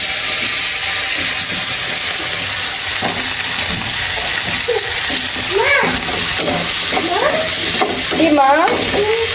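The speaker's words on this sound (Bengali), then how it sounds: "ডিম ভাজার ওই তেলেই হচ্ছে আমি এখন এই বেগুনগুলো ভেজে নেব" Eggplant slices fry in leftover egg-frying oil in a pan, a loud, continuous close sizzle with scraping stirs, while a voice and other household sounds come through in the background.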